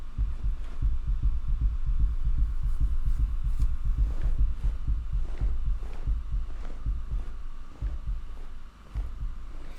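A steady, throbbing heartbeat pulses from the horror video game Tainted Pools, a low rhythmic thump repeating about twice per second, loud and close, continuing alone for the whole stretch with no voices over it.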